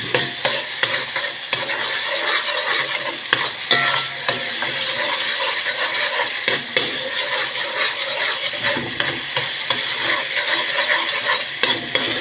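Two spoonfuls of tomato paste are stirred in a hot pan. A continuous scraping and sizzling runs steadily with small irregular clicks and knocks, close and moderately loud, with no voices.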